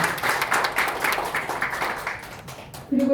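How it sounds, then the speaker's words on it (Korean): An audience claps to welcome an arriving guest professor at a Korean gathering, the rapid clapping fading toward the end as a voice briefly starts speaking over it. "큰 박수로 맞아주십시오."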